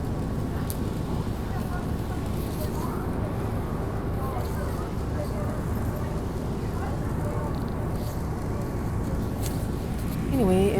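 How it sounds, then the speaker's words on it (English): A loud ventilation fan runs inside a TTC 2010 Orion VII NG city bus, a constant broad whir over the low drone of the moving bus, with faint voices and a few squeaks near the end. "But the fan is pretty loud."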